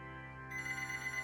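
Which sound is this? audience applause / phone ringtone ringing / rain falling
phone ringtone ringing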